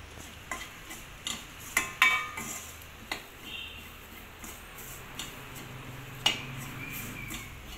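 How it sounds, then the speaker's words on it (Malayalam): Mushroom curry masala being stirred in a pan while it cooks: a spoon scrapes and taps against the pan in irregular knocks over a soft, steady sizzle, close up, with no talking. "നന്നായിട്ട് ഇതിൻ്റെ പച്ച മണം മാറുന്നത് വരെ നന്നായിട്ട് ഇളക്കുക"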